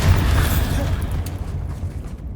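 Bombarda blasting spell fired in Hogwarts Legacy, a loud low explosive boom at the start that rumbles and decays over a couple of seconds with lingering debris crackle.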